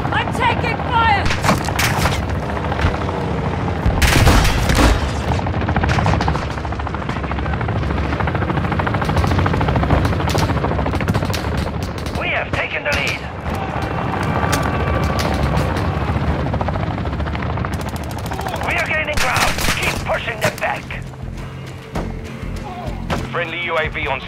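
Gunfire crackles almost nonstop in the Modern Warfare 2 video game, with rapid bursts and heavy booms layered over a constant helicopter rotor drone, while game voices call out over the din.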